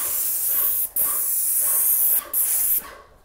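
Airless paint sprayer spraying trim around a fireplace, a loud steady high hiss in three bursts separated by brief pauses where the trigger is released, close and without talk.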